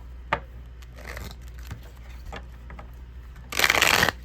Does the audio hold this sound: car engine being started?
no